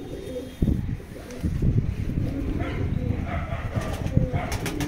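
Rampuri pigeons coo steadily inside a busy loft, soft throaty calls overlapping close by, with rustling, a sharp knock and muffled voices in the background.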